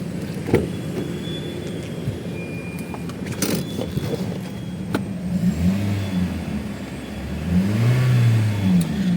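A 2019–2020 Toyota Corolla Altis 1.6G engine hums steadily and then rises in a couple of smooth revs, close by, with a sharp click partway through and no talking.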